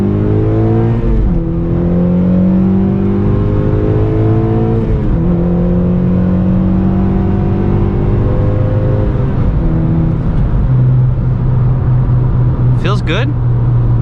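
A car launched hard from second gear at about 45 revs up through the gears, the engine note climbing, dropping at shifts and rising again, loud and close from inside, with a voice speaking over it.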